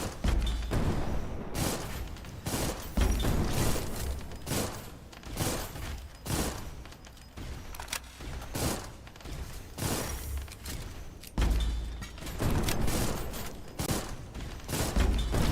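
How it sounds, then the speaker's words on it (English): Grenade explosions in the Armored Core video game burst repeatedly in quick succession, a string of thuds and booms with clattering mechanical noise between them, all at a fairly low level. "Another grenade to the face."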